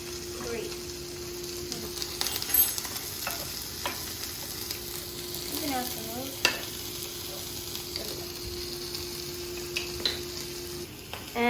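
Sausages fry in a pan with a steady low sizzle, a faint hum underneath and occasional scraping clicks of a utensil against the pan.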